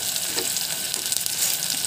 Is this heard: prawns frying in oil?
yes